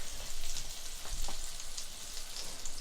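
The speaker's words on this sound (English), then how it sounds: "Heat the pan at around medium heat and then add a tablespoon of butter. Then you throw in your ginger" Ginger sizzles and fries in melted butter in a pan over medium heat, a dense steady crackle with brief stirring bursts, close and fairly loud with no voices.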